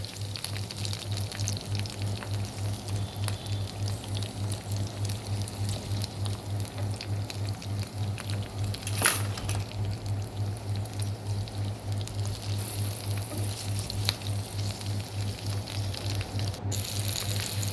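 Chopped green chillies frying in oil for a sesame tomato chutney give a steady close sizzle and crackle with a constant low hum beneath, and no talk.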